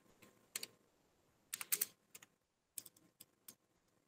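Clusters of quick key presses on a computer keyboard while entering data in Tally accounting software, crisp close clicks in short bursts separated by brief pauses, quiet overall with no talking.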